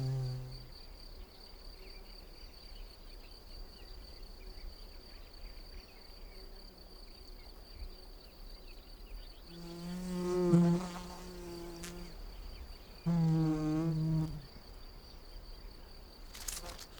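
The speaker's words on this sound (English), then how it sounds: "She now flies to and fro, depositing pollen into the belly of the nest." A mason bee buzzes in flight as it carries pollen to and fro at its nest, two close droning passes rising over a quiet background with a faint steady high whine.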